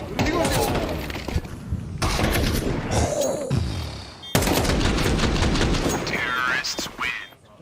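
Gunfire from a Counter-Strike 2 match replay, including AK rifle shots, crackling in quick bursts underneath steady, energetic commentary from casters talking throughout.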